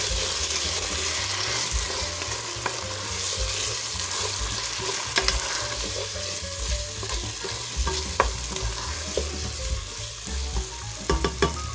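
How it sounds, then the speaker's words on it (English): Beef stew with red wine being stirred in a hot pot: continuous sizzling and bubbling with scraping spoon strokes and clinks that grow more frequent toward the end. "Now we're going to add in our 4th cup of red wine. And you just want to mix that thoroughly."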